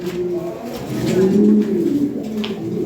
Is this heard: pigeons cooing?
yes